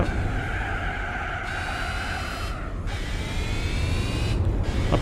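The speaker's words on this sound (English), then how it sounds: "I'm hearing the car squealing and struggling for grips" Car tires squeal continuously in the Gran Turismo 4 racing game, a loud, sustained high screech over engine roar, pulsing in a few long bursts with no talking.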